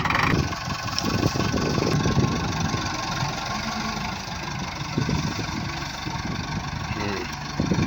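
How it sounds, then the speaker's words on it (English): A farm tractor engine running on a livestock farm, a loud, steady rumbling idle close by from start to finish, with faint voices in the background. "He's just about to spark the tractor."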